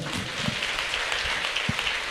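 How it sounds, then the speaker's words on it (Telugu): A church congregation applauds loudly during a sermon, a steady dense wash of clapping that fills the whole moment, with a few sharper individual claps standing out. "చప్పట్లు కొట్టండి గట్టిగా"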